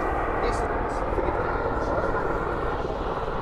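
A helicopter coming in to land at a heliport in Wellington, New Zealand, drones loudly and continuously nearby, a dense rotor and engine roar that fills everything, with faint voices barely audible beneath it.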